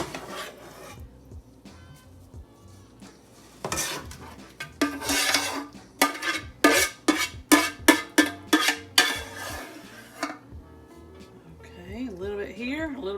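A spoon scrapes cooked ground meat out of a pan into a casserole dish, making a run of sharp, rhythmic metallic scrapes and clanks up close, with a person talking between them.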